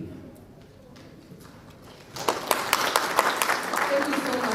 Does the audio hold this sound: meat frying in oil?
no